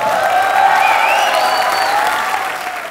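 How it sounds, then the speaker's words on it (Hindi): Loud audience applause fills the room at a comedy show as the host is welcomed back, a steady dense clapping wash with no voices over it. "एक बार जोरदार तालियां हो जाए"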